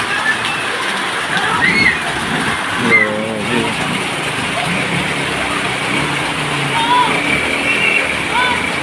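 Steady heavy rain in Montalban during flooding fills the clip with a dense wash of noise, with faint whistling tones and a brief voice rising over it.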